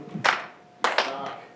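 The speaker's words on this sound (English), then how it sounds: "one person in the back just gets a single clap" One person claps once in a room facing an audience, a single sharp clap followed by a couple of lighter taps or claps, close and fairly loud.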